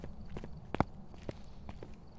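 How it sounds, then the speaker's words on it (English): Footsteps in the ghost-hunting video game Phasmophobia: a handful of irregular thudding steps, one noticeably louder and closer than the rest, over a quiet hum. "listen to the footsteps a little bit more closely while I'm in the back room"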